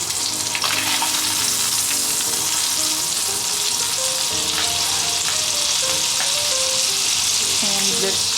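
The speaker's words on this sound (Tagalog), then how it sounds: "let's put our butter in the same pan." Butter sizzles and fries steadily in a hot pan, a dense continuous crackle with scattered pops and light stirring clicks, close and fairly loud, no talking.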